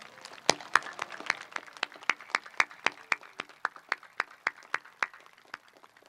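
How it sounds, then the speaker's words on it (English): Graduation-ceremony crowd at Bolsa Grande High School applauding the graduates, a steady patter of many hands clapping with distinct sharp claps standing out, moderately distant and continuous throughout. "Please join me in a round of applause for all of our accomplished graduates"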